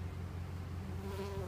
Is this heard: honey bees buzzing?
yes